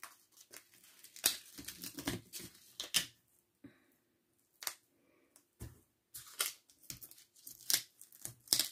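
Scissors snipping hook-and-loop velcro strips in half for a handmade paper album, heard as sharp, close, irregular cuts with quiet pauses and light paper rustling, no talk.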